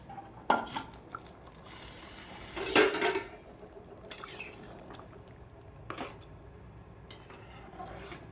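Fried chandramukhi potatoes go into a pot of mutton curry and are stirred, giving scattered metallic clanks and scrapes with one louder clattering burst midway, with no talk.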